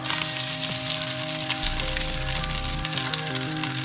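Cooked rice tipped into a pan of fried coconut gives a steady sizzle and crackle, with a brief low rumble in the middle as the rice lands, close and alone with no talk.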